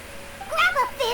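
A little cat in the video game Genshin Impact lets out a couple of short, rising meows in quick succession, close and clear over faint background hiss.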